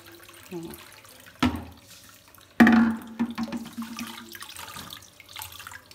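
Fresh homemade paneer curds made from milk cream are rinsed under running water, giving splashing and pouring sounds with a couple of sharp bursts, close and moderately loud, with no talking.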